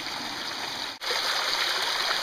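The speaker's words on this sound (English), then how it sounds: "When water moves like this down a natural flowing creek" Spring water runs down a natural creek over small rapids, a loud, steady rushing burble with a brief dropout near one second before the flow continues.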